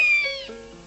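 A single short kitten meow, loud and close, rises briefly and then trails downward into a softer fading tail, with nothing else heard.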